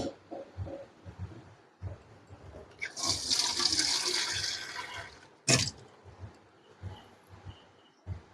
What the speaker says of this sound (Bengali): এখন আমি ছাঁকনিতে ঢেলে নেব।